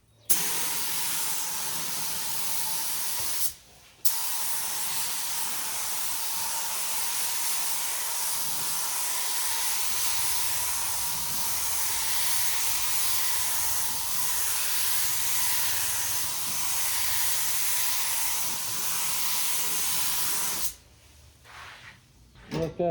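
Rust-Oleum spray paint going on as a light coat, a loud, continuous close-up aerosol hiss that breaks off briefly once and stops near the end.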